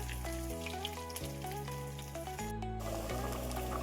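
Curry leaves and a bay leaf frying in hot oil, a steady spattering sizzle running beneath louder background music that plays throughout.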